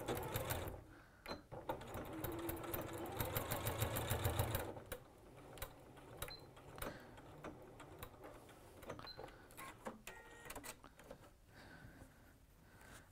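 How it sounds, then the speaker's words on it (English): A sewing machine stitches across the corner of a tweed bag in one loud, rapid mechanical burst of several seconds, then stops, followed by quieter clicks and handling of fabric. "We'll just stitch across."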